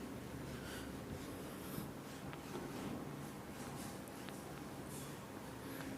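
Someone writes out a maths question by hand in a classroom lesson, producing a steady, close scratching that runs without a break over a noisy room background.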